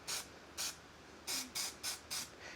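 Seymour weld-through primer sprayed from an aerosol can onto bare steel, heard as six short hissing bursts in an irregular rhythm, close and fairly quiet, with no talking.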